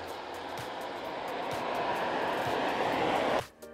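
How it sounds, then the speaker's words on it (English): A V8 car engine passes along a village lane near a church in Eckington, Worcestershire, a steady loud broadband roar that builds over several seconds and then cuts off sharply as it goes by. "What a car. I can hear V8 here."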